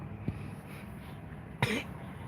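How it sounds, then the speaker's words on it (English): A single short cough bursts out near the end, following a fainter throaty catch earlier, over a quiet indoor background with no other clear sounds. "I coughed and laughed"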